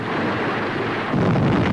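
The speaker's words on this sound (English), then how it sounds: "German guns open up immediately. Shells fall on tanks and men in the road." German guns firing during the June 1944 advance on Rome, with shells bursting on a road among tanks and men: a dense, continuous roar of booming rumble with no breaks, loud and distant-sounding.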